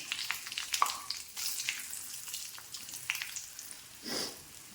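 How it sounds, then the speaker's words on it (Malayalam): Mustard seeds frying in hot oil, a faint, steady sizzle dotted with small crackles and pops, heard close with no one talking. "അപ്പം നമ്മൾ എണ്ണ ചൂടായി കടുക് ഇട്ട് കൊടുക്കുവാണ്"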